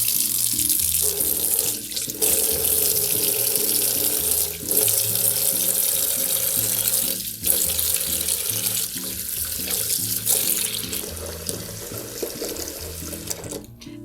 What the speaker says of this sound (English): I'm going to run my hands under the water while I fill the basin to disperse the conditioner evenly.